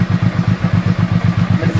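A small engine fitted with an adjustable valve runs close by with a steady, rapid pulsing beat, loud and even throughout with no voices.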